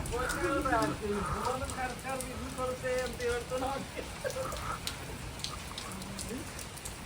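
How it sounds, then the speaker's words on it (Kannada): Rain patters steadily on a surface nearby while people talk over it. "ಫುಲ್ ಜೋರ್ ಮಳೆ ಬರ್ತೈತೆ"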